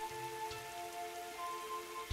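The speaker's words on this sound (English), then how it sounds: "Senpai, look, it's raining." Steady rain patter in the Fate/Grand Order game, a soft continuous hiss of drops with faint tonal hum beneath and no voices.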